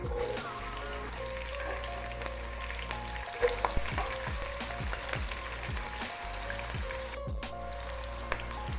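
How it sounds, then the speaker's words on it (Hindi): Two medium, roughly chopped onions sizzle in oil for white chicken biryani, a continuous quiet crackle with occasional stirring clinks, set against faint background music. "प्याज को सिर्फ इतना ही ऑयल में फ्राई करना है"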